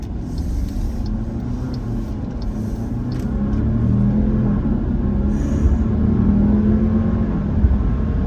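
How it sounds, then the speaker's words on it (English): Gas engine of a Jeep Grand Cherokee 4xe plug-in hybrid idling in below-freezing weather, a steady low rumble that swells slightly midway and holds, with no talk. "The engine is always running when it is this cold out, especially when it's below 0."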